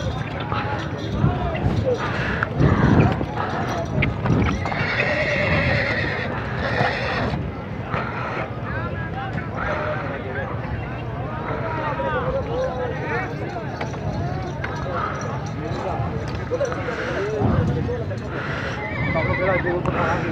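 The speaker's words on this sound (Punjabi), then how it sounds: "ਇੱਕ ਛੋਟਾ ਜਿਹਾ ਇੱਕ ਘੋੜਾ ਗੁਜਰਾਤ ਮੰਡੀ ਤੇ ਆਇਆ ਜੀ" Horses neigh repeatedly at the Mandi Gujrat horse market, loud whinnies rising over a busy background of hoof clip-clops and people talking throughout.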